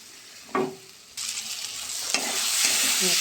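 Spice paste stir-fries in a pan: after a single scrape, a sudden burst of sizzling starts and keeps building, with occasional spatula scrapes over the steady hiss.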